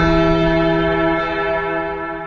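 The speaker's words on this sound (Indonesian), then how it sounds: "suara lonceng berbunyi" A bell rings with a sustained, resonant tone that hums steadily and fades slightly toward the end, in a Rama and Sinta drama.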